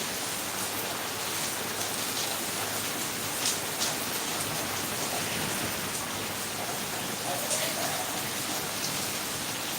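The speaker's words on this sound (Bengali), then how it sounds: "আমাদের এখানে প্রচুর বৃষ্টি হচ্ছে" A steady, dense hiss of rain falling continuously, with faint scattered drips and no other sounds standing out.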